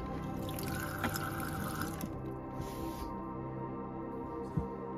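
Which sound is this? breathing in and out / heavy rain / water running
water running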